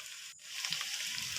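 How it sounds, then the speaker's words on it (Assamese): Potatoes and pumpkin frying with meat in hot oil, a steady close sizzle that swells slightly as the pieces settle in the pan, with no talking. "এয়া কোমোৰা আৰু আলুখিনি আমি দি দিছোঁ। এতিয়া অলপ সময় ভাজিম।"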